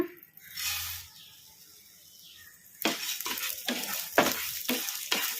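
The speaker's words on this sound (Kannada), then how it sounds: "ಈಗ ಇವನ್ನ ಕಡಾಯಿಗೆ ಹಾಕಿ ಫ್ರೈ ಮಾಡ್ಕೊಂಬಿಡೋಣ." Coriander seeds roast in a kadai. A quiet stretch gives way to loud crackling sizzle and rough scraping stirs that repeat every half second or so, close by and without speech.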